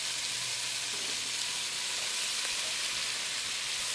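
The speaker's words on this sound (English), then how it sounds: "Now we're going to saute our vegetables. We're going to add a little bit more oil, not a ton." Vegetables sauté in a little oil in a stew pot, giving a steady, even sizzle and crackle that holds at a low level with no voices throughout.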